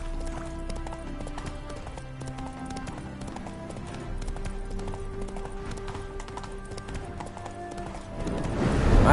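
Roach, Geralt's horse in The Witcher 3 video game, clip-clops along at a steady walking rhythm, hooves close by, over a bed of game music, with a swell of noise at the very end.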